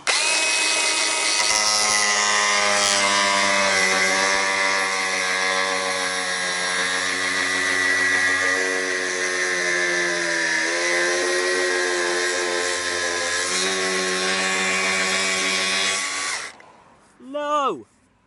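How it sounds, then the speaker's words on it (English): Angle grinder cutting off the splitter extension on a custom widebody Alfa Romeo Giulietta, a loud, steady high-pitched whine held for about sixteen seconds before winding down abruptly, with a brief voice afterward. "Let's get the grinder and cut that off."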